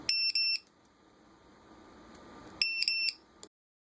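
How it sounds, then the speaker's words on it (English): A Dronekeeper mini2 sounds its missing alarm in two bursts of sharp, high electronic beeps, with a short quiet stretch of faint background hiss between them. "This sound is for a missing alarm."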